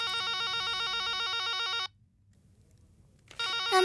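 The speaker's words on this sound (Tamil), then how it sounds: "ஃபோன் அடிக்குது" A phone ringtone plays loudly in a steady repeating pattern, cuts off into near silence for over a second, then resumes just before the end.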